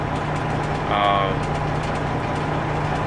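A day cab tanker truck's diesel engine idling with a steady, close low rumble and hum, while a voice talks over it.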